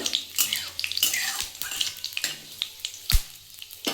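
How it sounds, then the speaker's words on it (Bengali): Dried red chillies and nigella seeds hitting hot oil as a tempering for a flat bean and potato dish, giving a loud, close, crackling sizzle with sharp pops and spits throughout. "আমি তেলের মধ্যে কয়েকটা শুকনো লঙ্কা ফোড়ন দিলাম আর একটু কালো জিরে ফোরনটা একটু ভালো করে ভেজে নেব"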